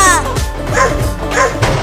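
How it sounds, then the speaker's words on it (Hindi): A cartoon dog barks in quick yipping bursts while chasing a cat, loud and close over a busy music and effects backdrop, with a voice talking underneath. "वो कुत्ता बहुत पास आ गया है, वो तुझे पकड़ लेगा।"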